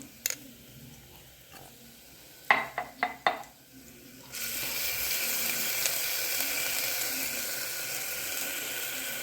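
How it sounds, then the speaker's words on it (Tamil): Fennel seeds and garlic paste hit hot oil with a few sharp clatters, then a loud steady sizzle takes over and runs to the end, nearby and without talk. "எண்ணெய் ஊற்றிக்கலாம் கொஞ்சம் சோம்பு போட்டுக்கலாம் பூண்டு பேஸ்ட் போட்டுக்கலாம்"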